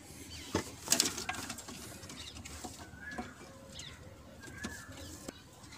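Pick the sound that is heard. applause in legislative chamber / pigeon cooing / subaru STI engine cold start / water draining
pigeon cooing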